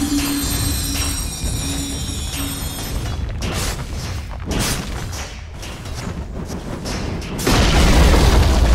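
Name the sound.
Radiant bottom tower attacked and destroyed in Dota 2 video game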